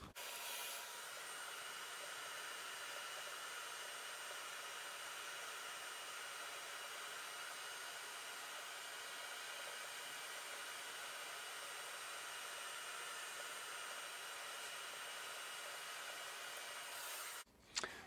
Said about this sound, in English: you need a vacuum, like a beater vacuum that you can donate to your static grass application